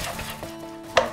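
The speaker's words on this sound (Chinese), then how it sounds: "稍微定型之后就开始迅速的滑散" Beaten egg stir-fried in hot oil in a wok, giving a soft, steady sizzle with a few scraping stirs and a sharper clatter of the spatula near the end.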